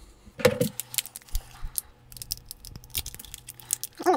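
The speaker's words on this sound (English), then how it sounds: "quickly open up the little bag" A small plastic bag of spare parts from a vape pod kit is torn open and handled, with crinkling, rustling and light clicks of the small pieces moving inside it, close and fairly quiet.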